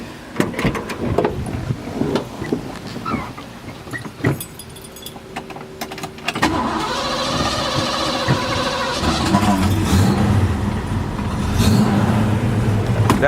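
Rattling and clicking, then a 1966 Ford Mustang's 289 V8 with a Holley 650 carburetor cranks and catches at about six seconds, settling into a loud, rumbling, steady idle close by.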